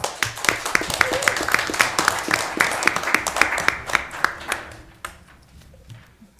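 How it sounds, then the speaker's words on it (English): Applause rises in a city council meeting room, with a few sharp, close claps standing out over the general crowd for about five seconds before fading to quiet room tone. "A huge round of applause for Councilor Soul."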